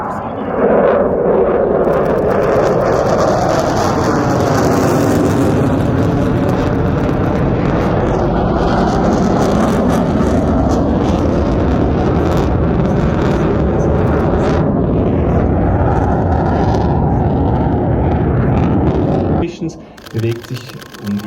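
A Pilatus PC-24 jet flies at the 2022 Axalp airshow, its loud sustained roar filling the air under a commentator's running talk, then easing off near the end.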